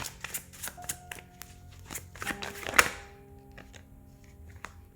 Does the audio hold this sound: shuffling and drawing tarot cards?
yes